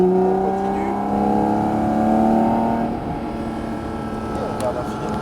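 Porsche 718 GT4 RS engine accelerating hard on a race track at Fontenay-le-Comte, a loud sustained rising engine note with harmonic whine that eases off near the end, heard from inside the car.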